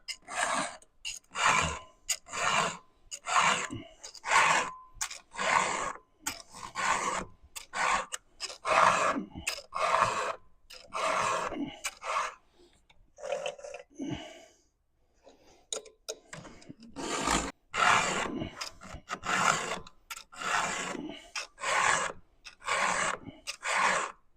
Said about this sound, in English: it doesn't take long at all to sharpen the chain